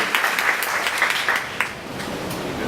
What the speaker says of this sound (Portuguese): Salva um monte de palmas para ele, por favor.